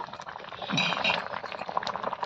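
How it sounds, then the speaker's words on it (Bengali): Water bubbling at a steady boil in a cooking pot, a soft continuous burble with small pops and a faint clink, close and alone with no talk. "এবার জল ভালো করে ফুটিয়ে সেদ্ধ করে নেব"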